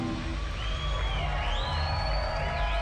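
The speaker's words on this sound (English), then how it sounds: "everyone's shouting and clapping, but they're not jumping around yet" A festival concert crowd shouting and whooping at a loud, dense level, with scattered high cries rising above the sustained roar.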